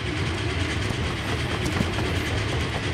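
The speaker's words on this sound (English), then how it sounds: "All right, here's the train." A train rolls along rails in the Wild West battle royale game GRIT, a steady, continuous rumble and clatter of wheels on track that carries on alone without a break.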